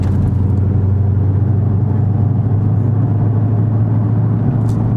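Dodge Charger Scat Pack with the 392 engine idling in sport mode, a steady deep low rumble held close and loud for the whole stretch, with no talk over it.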